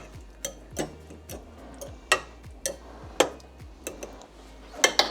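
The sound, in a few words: fork cutting food in a pan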